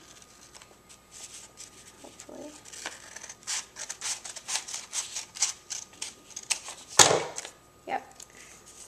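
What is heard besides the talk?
scissors cutting paper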